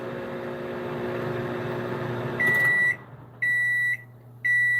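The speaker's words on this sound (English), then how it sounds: "that timer went off quite fast" Microwave hum while chocolate melts, then the timer goes off with three loud, evenly spaced electronic beeps that stand out over the fading drone.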